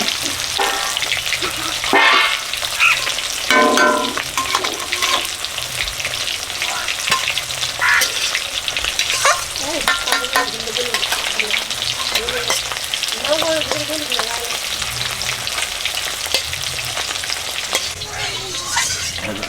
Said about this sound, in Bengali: সাঁকর মাছ এদিকে ভাজা হচ্ছে